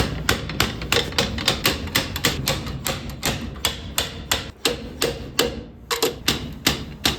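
Light, rapid metal taps on the brake drum of a Coleman trailer axle around its gussets, a close steady series of sharp knocks with brief irregular pauses.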